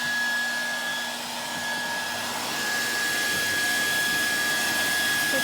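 A handheld hair dryer blows steadily on a Brusho-painted card, a constant close airy whir with a thin high whine running throughout the whole stretch.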